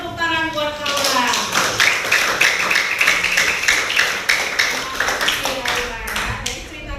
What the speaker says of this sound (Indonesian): Iya, kasih tepuk tangan buat Aura.